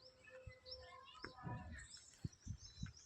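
Birds chirp in a neighbourhood garden in Aiyanagar, Bhuj, with short, high tweets scattered through the quiet air among faint low knocks and murmurs.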